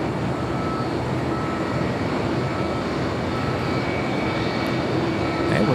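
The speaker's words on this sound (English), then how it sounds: "It's a 787-8 Dreamliner heading to Dallas-Fort Worth" An American Airlines Boeing 787-8 Dreamliner at LAX, bound for Dallas-Fort Worth, makes a loud, steady broadband engine roar that holds evenly throughout, close and continuous with no voices.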